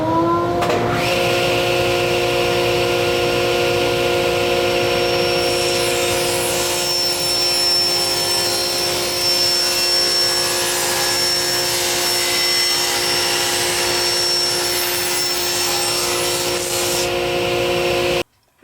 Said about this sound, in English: we will cut through the front fence, we will cut through the bed of our sled, and as well the back fence until we are completely clear of the blade